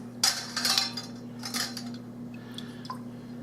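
A metal lid and screw band are set onto a glass preserves jar of strawberry peach preserves, giving a few close metallic clinks and taps followed by quieter scraping twists.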